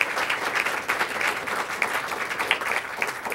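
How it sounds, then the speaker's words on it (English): An audience at a 2014 Sierra Madre candidates forum claps steadily in a dense, even patter for a few seconds, with no one talking over it. "So an applause for the candidates."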